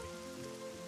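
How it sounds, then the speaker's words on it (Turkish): Cartoon rain falling steadily on a surface, a dense even patter mixed with soft tonal background music throughout the short moment. "Ama yağmur yağıyor."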